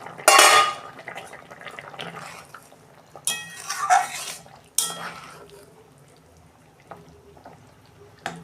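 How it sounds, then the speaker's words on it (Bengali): A lid lifted off a pot of boiling potatoes for a fish curry, a sharp metallic clatter followed by scattered pot and utensil knocks and a softer burst of steam, close by. "ঢাকনা খুলছি।"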